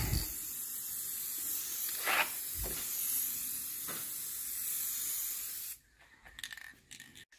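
Aerosol spray paint hisses onto a 1984 Dodge Ram D150 truck in a long steady burst with brief pulses, then cuts off into quieter handling noises near the end.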